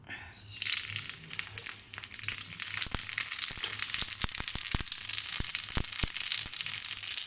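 Mustard seeds crackle and splutter in hot oil with a dense, continuous sizzle broken by sharp, irregular pops.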